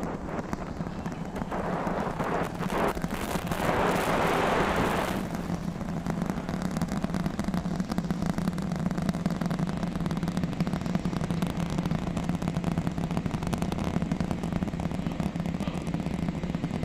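A SpaceX Super Heavy rocket climbs with 32 of its 33 Raptor engines lit, producing a continuous deep, crackling rumble heard from a distance that stays loud and even throughout.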